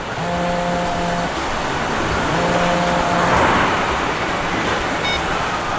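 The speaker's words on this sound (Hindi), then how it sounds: "बाद में बात करो, गाड़ी चला रहा हूँ मैं अभी।" A car drives along a road with a steady, loud engine-and-tire roar that swells slightly in the middle, heard from inside or near the vehicle in a TV crime drama scene.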